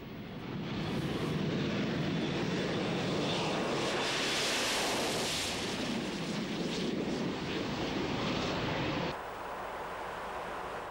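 A Harrier GR5 jump jet roars steadily and loudly for most of the clip, a dense sustained engine blast with wind buffeting, then drops sharply in level near the end.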